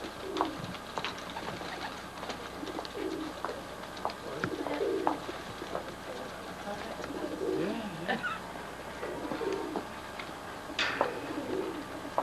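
Pigeons coo repeatedly at an English roller loft, soft rounded calls coming in irregular bursts near and far, with scattered rustles and occasional faint human voices in the background.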